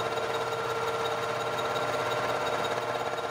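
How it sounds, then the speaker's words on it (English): Milling machine running while cutting Harbor Freight 20-ton press plates flat, a steady mechanical drone with a faint rattle from the head, constant and close throughout with no talking. "You can hear a little bit of rattling up in the head"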